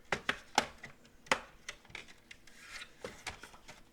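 A scrap of paper is scored on a scoreboard with quick, close, quiet scratchy strokes, a handful of short rasping rubs spaced irregularly.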